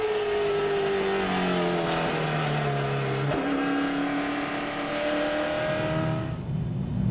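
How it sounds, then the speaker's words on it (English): A late model race car spins out at Langley Speedway with a flat tire, its loud engine note sliding down in pitch, dropping sharply mid-spin, then trailing off as the car slows, close and continuous. "Wesley Falk spins around in the 41."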